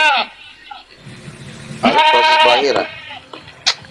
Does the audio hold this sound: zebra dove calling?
no